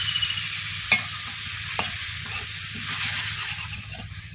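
Pointed gourd and shrimp stirred in a pan with salt and turmeric: a steady sizzle with a few sharp scrapes of the spoon against the pan, heard up close.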